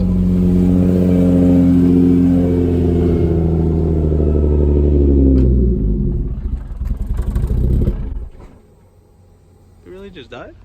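A Nissan Z cold-starts with a loud, rumbling idle and a wavering rev, then stumbles, sputters and stalls, leaving near quiet with a faint clatter at the end.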